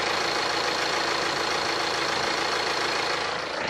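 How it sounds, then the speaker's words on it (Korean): A 2013–2014 BMW 3 Series GT diesel engine idles steadily with its hood open, a loud, constant mid-range diesel rumble and clatter heard alone for several seconds. "바로 엔진 소리 한번 들려드릴게요."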